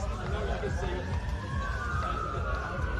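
An ambulance siren wails past a suburban football ground during a local league match, its rising and falling tone clear over crowd and ground noise, fairly close and steady throughout.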